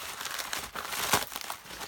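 Plastic packaging from a knitting parcel crinkles and rustles close to the microphone as it is pulled open, in short irregular bursts with one sharper crackle midway.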